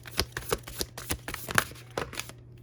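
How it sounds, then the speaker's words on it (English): Tarot cards being shuffled and drawn by hand, a quick series of soft riffling flicks and slaps at close range, fairly quiet, with a low steady hum underneath and no talking. "So let's go ahead and get 3 cards for you."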